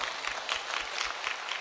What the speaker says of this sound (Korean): 박수로 주님 앞에 영광 돌리시다